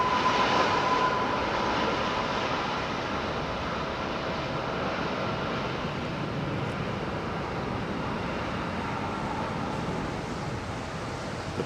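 A jet airliner arriving on runway 27R at London Heathrow roars loudly and continuously overhead, a broad steady engine rumble and whine holding for the whole stretch with no talk.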